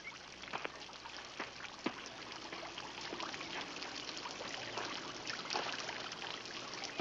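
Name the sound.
water trickling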